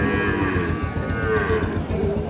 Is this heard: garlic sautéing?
no